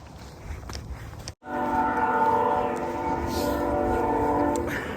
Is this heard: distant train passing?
yes